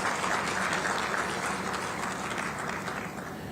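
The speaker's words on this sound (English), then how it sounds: "that deserves a great round of applause to the great effort which Sebi has done." A conference audience at a capital markets event gives a sustained round of applause, dense and even from the start, fading slightly toward the end.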